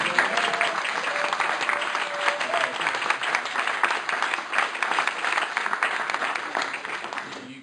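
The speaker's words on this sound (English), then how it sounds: "One more applause." Steady applause from an audience at an award citation and medal lecture ceremony, dense clapping sustained at an even level throughout, with some speech mixed in.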